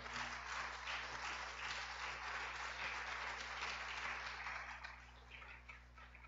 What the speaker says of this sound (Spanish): Dale palmas, amado Señor.